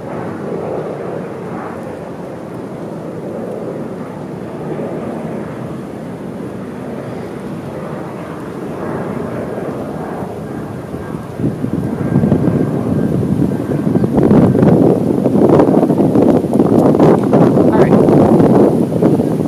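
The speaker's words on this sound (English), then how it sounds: "hold on, another airplane." Airplane flying overhead, a broad low rumble with wind-like noise that swells louder and closer through the second half.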